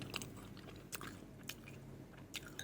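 Crispy fried pork toast bitten and chewed close up: a few sharp crunches spaced apart, with quiet chewing between them and no talk.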